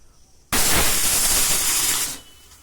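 A pressure cooker cooking Nepali khir from milk lets out a single loud, steady hissing whistle of steam. It starts abruptly, holds for about a second and a half, then cuts off, with faint background sounds before and after.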